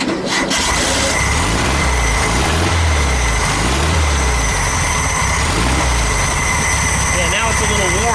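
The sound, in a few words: VW Super Beetle engine cranking with a trigger starter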